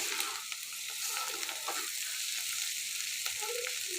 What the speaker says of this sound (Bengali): আমি হাই হিটে ভেজে নিচ্ছি অত বেশি নাড়বো না তাহলে তিতা হয়ে যাবে